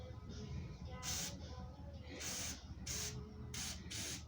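Fluid Film rust-prevention spray from an aerosol can: five short, loud hissing bursts of uneven length, close by, over a steady low background rumble.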